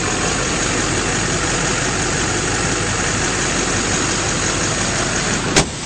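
Steady, close idle of a 2007 Chevrolet Silverado 2500 6.6L diesel, a constant smooth rumble and clatter that stays even throughout, broken near the end by one brief sharp click.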